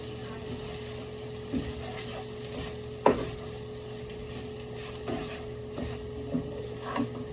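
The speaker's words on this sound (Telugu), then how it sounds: "కొత్తిమీర వేసేసుకొని నీట్గా కలిపేయండి." Coriander being mixed into a tomato egg curry in a pan, a soft ongoing sizzle with a few scattered spoon taps and scrapes, one sharper knock partway through.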